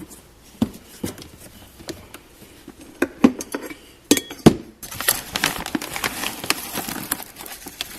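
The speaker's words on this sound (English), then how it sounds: "So I just mix some of that in." Orijen pet food being stirred into other food in a bowl for a pet genet, with scattered clinks and scrapes of kibble against the dish, louder rustling toward the end, no talking.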